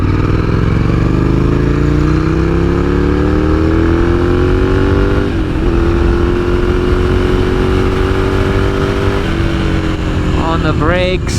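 A motorcycle engine drones loudly and continuously up close while riding in wet weather, its pitch rising and settling through gear changes, with wind noise and a voice speaking over it.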